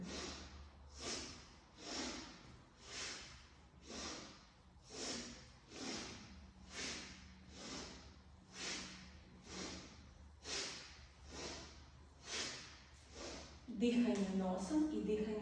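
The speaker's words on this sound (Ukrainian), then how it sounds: "І ми зробимо таке коротеньку, коротеньке дихання, щоб активізувати все тіло." Short, rapid yoga breaths, inhaling through the left nostril and exhaling through the right, repeat as evenly spaced sharp nasal puffs about once a second, close and soft, with a louder rustle at the end.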